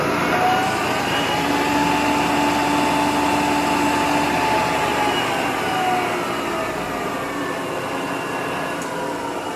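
A Lagun FTV-1 manual milling machine with an R8 spindle runs its head in high gear, a steady, loud mechanical whine and hum with sustained tones holding evenly throughout, no voices.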